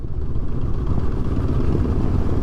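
A 2022 Honda CB500X motorcycle engine chugs steadily at low revs in sixth gear around 20 mph, a dense, continuous low rumble heard up close with no one talking.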